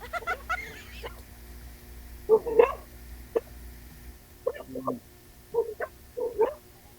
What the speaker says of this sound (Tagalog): kung ayaw po tumigil ng aso kakatahol